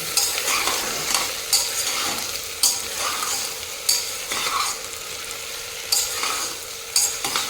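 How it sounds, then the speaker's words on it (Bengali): Washed mutton pieces are stirred in hot oil with a spoon, the pan sizzling steadily while scraping strokes land roughly once a second, close and fairly loud. "তেলের সঙ্গে একটু ভালো মতো করে নাড়িয়ে নেব"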